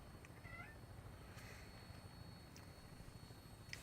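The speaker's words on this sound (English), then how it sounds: "I heard an Andy meow at me" A cat meows in a Fallout 4 game scene, one short faint rising meow early on, heard over a steady low rumbling background with a few soft clicks.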